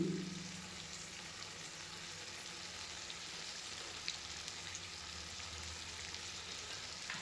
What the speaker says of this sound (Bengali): মাংসটা কষানো হয়ে গিয়েছে অনেকটাই